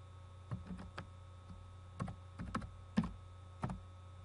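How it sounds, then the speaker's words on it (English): Typing on a computer keyboard to enter a company name in a CRM search, a handful of sparse, crisp key taps spaced irregularly, ending with a firmer press of the Enter key, close and quiet in a silent room. "type a few characters of the company name and press Enter or click Search"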